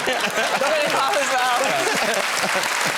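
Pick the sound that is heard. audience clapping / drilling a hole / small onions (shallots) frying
audience clapping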